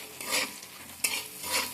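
Potatoes with kasuri methi are stir-fried in a pan, with quick scraping stir strokes in short bursts over a soft sizzle, close and without voices.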